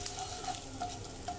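A spoonful of cumin seeds and a pinch of asafoetida crackle gently in hot oil, a faint, steady sizzle with light stirring and tiny pops.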